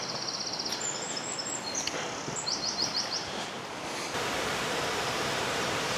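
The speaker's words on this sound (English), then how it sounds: "The river down there." A river on Dartmoor near Okehampton flows below through the trees, giving a steady, broad rushing wash that grows a little louder toward the end, with faint bird chirps above.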